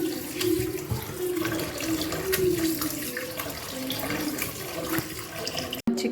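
Raw chicken being washed under a running kitchen tap, water splashing continuously and close with shifting gurgles as the pieces are moved, ending abruptly.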